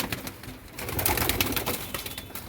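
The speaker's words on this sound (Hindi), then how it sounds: "ये कल्दुमे कबूतर है" Soft, low cooing from Kaldume breeder pigeons close by in a loft, mixed with rustling and scattered clatter in a busy, noisy space.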